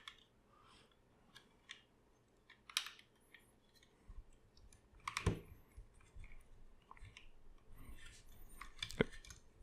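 Plastic parts of a Transformers Power of the Primes Predaking figure being rotated and snapped together: sparse small clicks and ratcheting snaps, close and quiet, with a few sharper clacks standing out.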